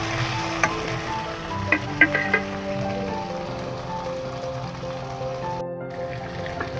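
Lotte fish frying in a pan while being stirred gives a soft, continuous sizzle with a few sharp scraping clicks of the spoon near the start, and no one speaks.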